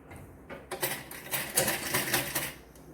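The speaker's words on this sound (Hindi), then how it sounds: "अभी ऐसे सिलाई करेंगे यहाँ से" Sewing machine running a stitching seam through fabric with a busy mechanical clatter, starting after a brief pause and continuing steadily at close range.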